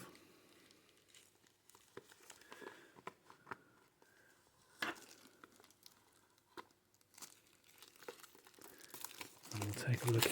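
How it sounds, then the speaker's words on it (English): Cellophane wrap is peeled off a tarot card box in scattered crinkles and sharp tearing crackles, close and fairly quiet, with a louder rustle at the end. "So let's get the cellophane off."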